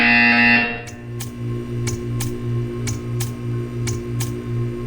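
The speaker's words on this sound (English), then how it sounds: "You will hear a buzzer." Portal 2 test-chamber buzzer: after a loud opening tone, a rhythmic series of evenly spaced electronic buzzes pulses steadily over a low hum, with sharp clicks marking each beat.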